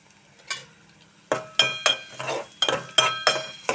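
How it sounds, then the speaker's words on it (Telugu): Sliced green chillies added to okra frying in a pan for a Telugu bendakaya curry, a series of sharp bursts of crackling and clinks after a quiet start, close and fairly loud. "దీనిలోనే ఇప్పుడు ఒక 4 పచ్చిమిర్చి ఇలా సన్నగా పొడవుగా కట్ చేసుకుని వేసుకుందామండి"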